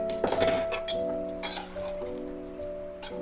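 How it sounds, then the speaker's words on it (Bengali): Metal lid clinks against a cooking pot as it comes off, a few bright clangs and a lingering ring over steady simmering of banana flower (mocha) curry. "2 মিনিট পর ঢাকনাটা খুলে রেখে নেব।"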